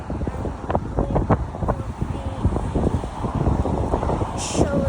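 Strong gusts of wind buffet the microphone on a walk through Dornie, rumbling and roaring in uneven surges that swell and ease throughout, loud and close, with faint background noises mixed in.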